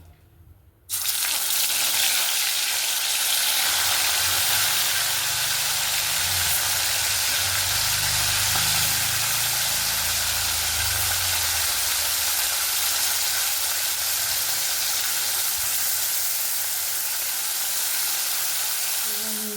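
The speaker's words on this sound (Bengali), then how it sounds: "তো বন্ধুরা দেখতে পাচ্ছেন কড়াই কিন্তু ধোঁয়া উঠতে শুরু করেছে। এবার কিন্তু আমি মাছগুলোকে দিয়ে দেবো।" Loitta fish dropped into smoking hot oil in a kadai erupts after a second of quiet into a loud, steady, close sizzle that holds evenly to the end.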